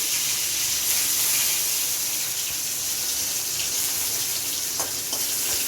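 Garlic and green chilli sizzle in hot oil in a pan, a steady broadband hiss lasting throughout, loud and close, with a few small pops near the end.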